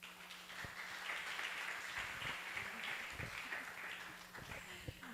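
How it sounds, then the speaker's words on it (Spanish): Audience applause at a Spanish-language panel event on innovation, a steady wash of many hands clapping that holds at an even, fairly faint level for several seconds, with a few sharper individual claps standing out. "Démosle un fuerte aplauso."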